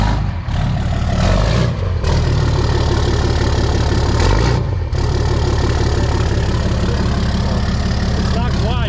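A Ram truck with a 6.7 diesel and a 4-inch Spelab exhaust idles nearby with a loud, steady, deep rumble and a brief swell partway through.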